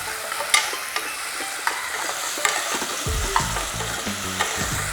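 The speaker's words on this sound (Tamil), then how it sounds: "இப்போ வெங்காயம் நல்லா ஃப்ரை ஆகிறதுக்கு நான் கொஞ்சம் உப்பு போட்டுக்கிறேன்" Onions with a little salt frying in hot oil for a mutton fry, a steady close sizzle broken by sharp clicks of a spoon stirring against the pan, with lower scraping thuds joining in the second half.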